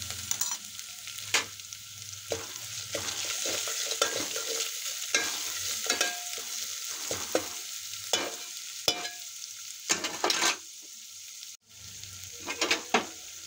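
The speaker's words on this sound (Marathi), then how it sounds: "हे सगळं परतून घ्यायचं।" Turmeric, black and red chili powder and coriander powder sautéed for dal tadka, with a steady sizzle and repeated scraping of a spoon against the pan, close and alone.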